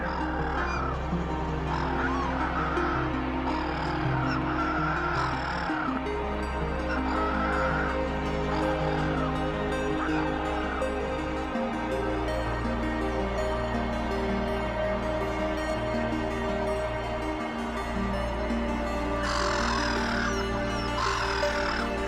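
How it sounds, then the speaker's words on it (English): Black-headed gulls call from a wetland over a low, steady hum, giving repeated harsh squawks that come and go in scattered bursts, some nearer and louder than others. "The calls of black-headed gulls are amplified somewhat across the wides."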